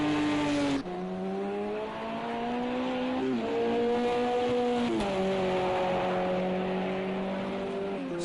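Audi and Toyota endurance race cars lap Silverstone in a WEC race, their engines giving a sustained, moderately distant high whine that shifts pitch as they change gear and brake, with several cars overlapping.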